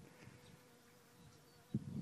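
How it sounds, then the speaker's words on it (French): A bee buzzing outdoors under a clear, sunny sky, a faint continuous drone that swells into a louder, closer burst near the end as it passes by. "Ah, une abeille là."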